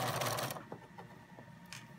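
A sewing machine runs briefly as it stitches along a fabric edge, a fast, close whirring buzz that stops after half a second, followed by a few faint clicks.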